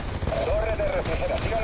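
Rapid automatic gunfire from the video game Black Ops II rattles continuously at close range, dense and loud, with a faint whining tone and a voice partly under the shots.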